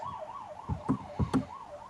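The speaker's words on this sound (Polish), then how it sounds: "Nie, karetka." An ambulance siren wails in a steady rising-and-falling pattern in the background of a Minecraft game, with a few dull thumps and clicks of gameplay breaking in over it.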